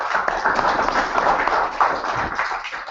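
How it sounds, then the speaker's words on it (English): A short burst of applause from a small group at the 2014 British Championship in Aberystwyth, dense and steady clapping for a few seconds with a faint voice mixed in. "Right, Jack, round of applause."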